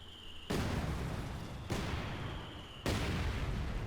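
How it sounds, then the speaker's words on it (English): Mortars firing in Company of Heroes 2 boom out as three loud, sharp blasts spaced about a second apart, each trailing off in a long rumbling decay. "How many goddamn mortars do you have over here?"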